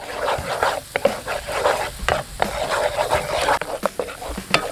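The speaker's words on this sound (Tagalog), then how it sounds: "So, halu-haluin lang natin to hanggang matunaw yung cornstarch." Butter and cornstarch roux stirred in a pan at an outdoor cook, with rapid uneven scraping and soft sizzling strokes repeating close up.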